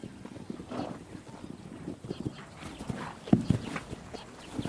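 Hooves of small, hardy Mongolian horses moving across the open steppe, a quiet, fairly distant clip-clop of irregular thuds over a soft outdoor background, with no voices.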